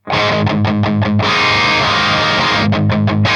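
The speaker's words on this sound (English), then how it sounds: "now I'm going to switch to the crunch channel, channel 2, for a nice sort of mid-gain crunch" A Keipro X-Metal electric guitar on a mid-gain crunch channel chugs in short palm-muted bursts, lets a loud ringing chord sustain, then returns to tight chugs, with no voice.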